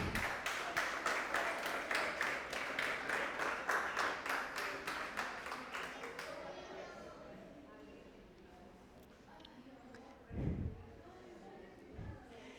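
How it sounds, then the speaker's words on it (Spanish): A church congregation claps in rhythm during a worship service, steady loud applause for about six seconds, then fading to a quieter room with a couple of brief thumps. "Dale un aplauso al Señor."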